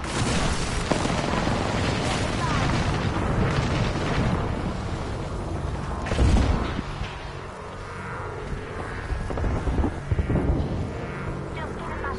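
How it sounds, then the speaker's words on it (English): A grenade blows up in the Apex Legends battle royale game, a heavy boom standing out from a dense, noisy mix of gunfire and rumbling effects, with a second sharper burst later. "Grenade, fellas."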